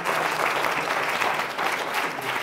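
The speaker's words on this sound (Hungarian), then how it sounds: "akkor egy jó nagy tapsot neki is, igen." A children's academy audience in Hungary gives a big, sustained round of applause for a guest, dense clapping from many hands filling the room evenly from start to finish.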